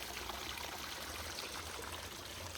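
Creek water runs steadily through forest near Buderim, Queensland, a continuous soft, even rush of flowing water heard from a little distance, with no voices over it.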